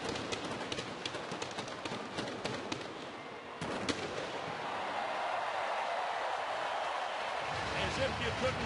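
Fireworks greet the two teams before the Hong Kong Sevens final in a packed stadium, a few sharp bangs early on, then a continuous loud roar of crackling blasts and crowd noise.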